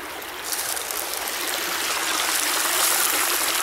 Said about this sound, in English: Almost looks like another creek coming in down on the right.